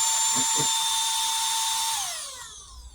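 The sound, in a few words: small electric air pump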